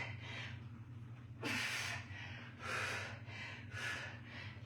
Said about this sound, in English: You gotta really focus on breathing in,